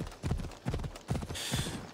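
Horse hooves clip-clop at a steady trot in Assassin's Creed Odyssey, a close, rhythmic run of hoofbeats with a soft hiss of movement near the end.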